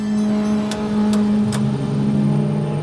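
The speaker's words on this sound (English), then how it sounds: "The car seems to be running really well, running about 14 PSI" A turbocharged Ford Escort making about 280 wheel horsepower at roughly 14 PSI of boost runs loud and close, a steady droning engine hum with a shift in pitch partway through and a few brief ticks overhead, no voices.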